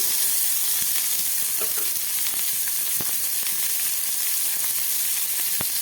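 Shelled prawns drop into hot oil tempered with nigella seeds, giving a continuous close sizzle with scattered crackles and pops throughout, no voices over it.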